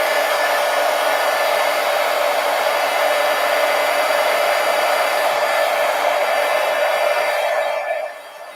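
A hair dryer blows steadily and loudly on a painting during an art session, a continuous whooshing motor drone lasting several seconds before dropping away near the end.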